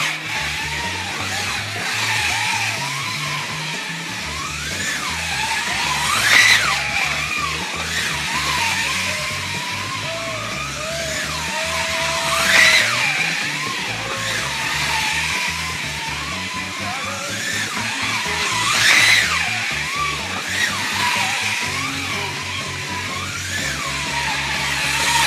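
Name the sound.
custom 1:32 scale AMC slot car running on track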